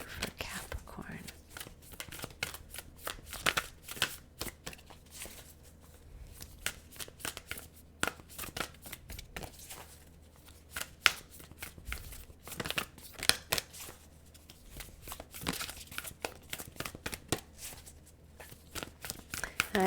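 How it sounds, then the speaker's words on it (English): A deck of tarot cards is shuffled by hand in a quiet room, with rapid, crisp riffling and flicking bursts repeating throughout, close and fairly soft, while a person speaks quietly at times. "This deck is hard for me to shuffle, but I love my cards to come out authentically."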